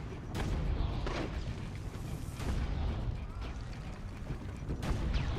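Cannon fire in Assassin's Creed: Brotherhood, heard as repeated heavy booms over dense battle noise, with a sharp burst near the start and others spaced across the stretch.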